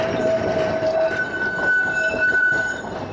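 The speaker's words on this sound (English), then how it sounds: "the sound of the old Blackpool trams? You can't beat it, can you? That sound, the screeching of the rails." An old heritage Blackpool tram screeching along its rails, a loud sustained metallic squeal with shifting high pitch over rumbling wheel noise, close by and heard alone without speech.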